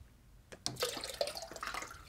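Aquarium water siphoned through a hose runs into a shrimp tank as a soft, steady trickle, with small splashes and drips over a few seconds.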